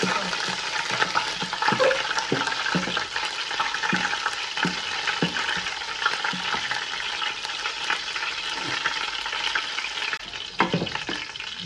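Cinnamon, cloves and cardamom fry in hot oil for a beef biryani, giving a steady close sizzle with faint stirring clicks throughout and no talking.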